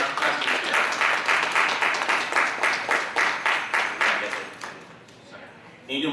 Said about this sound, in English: you can give a round of applause for our contestants here